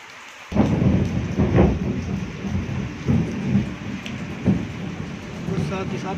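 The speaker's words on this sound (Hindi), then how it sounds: "साथ ही साथ बादल भी गरज रहे हैं।" Heavy monsoon rain pours outdoors in the wet Sawan season while thunder rolls in repeated deep, booming rumbles, some near and loud, the downpour continuing steadily between them.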